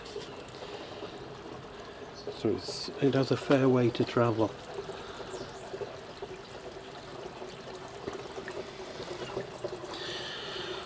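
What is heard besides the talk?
water pouring into a campervan cold water tank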